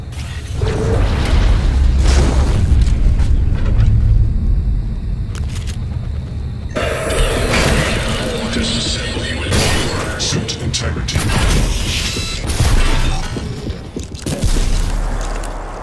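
In the video game Prey, a Kinetic Blast power combined with Mimic sets off heavy booms and deep rumbles within loud, continuous game noise that shifts midway.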